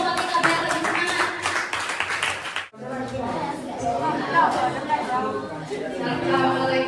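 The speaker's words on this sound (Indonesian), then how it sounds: "Beri tepuk tangan dulu untuk kelompok 3 biar lebih semangat." Students in a classroom clap for a presenting group amid lively chatter, with a brief pause partway through before the clapping and talk resume.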